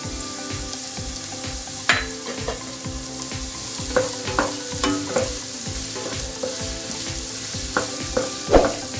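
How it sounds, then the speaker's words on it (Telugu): Green chillies frying in oil for a country chicken curry, a loud close sizzle with rhythmic ladle scrapes and taps against the pan, steady throughout with no speech. "కొంచెం ఫ్రై అవ్వనిద్దాం."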